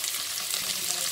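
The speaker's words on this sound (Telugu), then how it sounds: "కొంచెం కారం వేసి 2 నిమిషాలు ఉల్లిపాయలు మాత్రం మగ్గినిద్దామండి." Onions seasoned with chili powder sizzle steadily in a hot pan while a drumstick-leaf and toor dal curry is prepared, a continuous close frying hiss with faint stirring.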